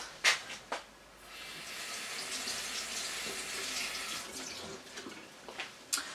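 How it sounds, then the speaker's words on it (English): Kitchen tap water runs into a sink during handwashing, a steady broad hiss lasting several seconds and framed by a few sharp clunks and splashes at the start and end, with no talking. "So all that happens now, I'm just going to wash my hands."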